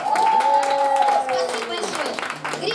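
An audience applauds to welcome a singer onto a stage, a steady wash of clapping that runs beneath a talking host and a held musical tone.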